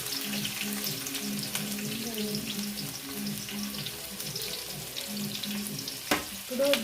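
Chopped onions and green chillies fry in oil for Nellore fish curry, a steady close sizzle with light stirring and a few soft clinks near the end.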